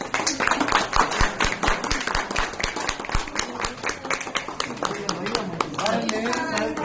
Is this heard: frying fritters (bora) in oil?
no